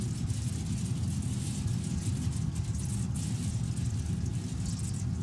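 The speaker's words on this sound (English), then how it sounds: "It is a little bit loud, but the suspension is loud, not the engine." Volvo 940 in a driving simulator game gives a steady low engine and suspension rumble, continuous and fairly loud throughout with no talk.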